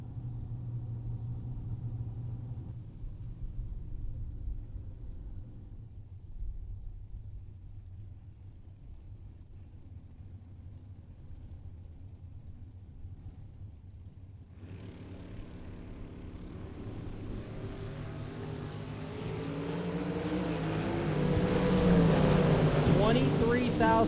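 A pickup truck and a Casey Lane dragster launch side by side at a bracket drag race in Las Vegas; low engine rumble idles under crowd noise, then a loud roar bursts in midway and swells toward the end.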